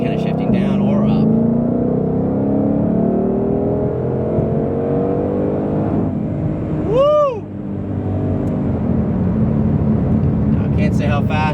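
A 2020 Shelby GT500 with a 10-speed gearbox roars loudly up close as it accelerates, with a brief dip in its pull around a gear shift before the revs build again; a passenger whoops partway through.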